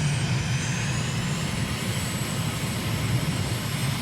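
Steady roar of a jet aircraft engine in Microsoft Flight Simulator, a continuous broadband rush with a faint high whine, even in level and unbroken throughout with no voices.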